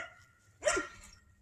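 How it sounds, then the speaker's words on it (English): A dog barks once or twice nearby outdoors, a short sharp burst standing out over quiet background during work on a 2006 Ford Fusion's 2.3L engine valve cover. "Stupid dog barking over there."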